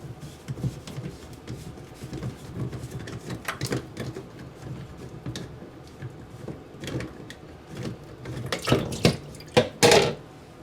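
Water trickles and drips from a sink drain trap into a plastic bowl nearby, with scattered splashes and clinks growing busier toward the end.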